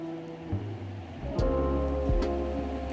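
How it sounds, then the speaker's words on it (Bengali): Water is poured into fried spice paste in a pan for a fish curry, a loud rushing, bubbling hiss that swells abruptly and keeps churning, with no voices. "এবার আমি এর মধ্যে অ্যাড করে দেব হচ্ছে জল।"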